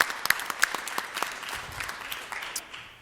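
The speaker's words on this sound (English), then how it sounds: "Round of applause." A small panel audience gives applause, with sparse, distinct claps that thin out as people start talking over them.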